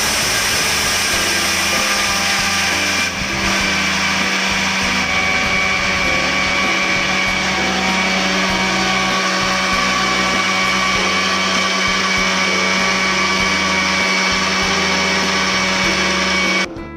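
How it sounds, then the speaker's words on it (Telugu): A mixer grinder whirring steadily as it grinds a roasted protein powder mix, a loud, continuous motor drone with a high buzzing whine that holds for the whole stretch, close up and without talk. "మిక్సర్లో వేసిన తర్వాత ఒక 2-3 మినిట్స్ అయితే దీన్ని బాగా గ్రైండ్ చేసుకోండి."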